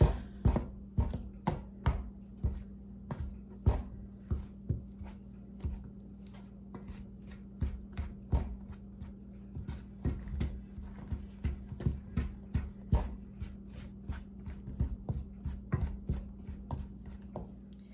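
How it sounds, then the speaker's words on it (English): Repeated dull chopping thuds as a pastry blender presses through shortening, flour and salt in a bowl, steady uneven rhythm, close up with no talking. "Use the pastry blender and get this all blended up."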